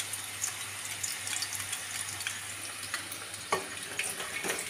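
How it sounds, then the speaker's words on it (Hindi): Marinated chicken frying for chilli chicken: a steady, close sizzling hiss with crackles, running throughout with no talk. "यहाँ पर चिकन फ्राई हो रहा है"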